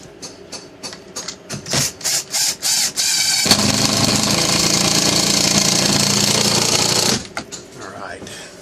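Shop vac switching on during a mantel repair, preceded by short bursts of handling noise and voices, then a loud steady roaring whine for about four seconds before cutting off.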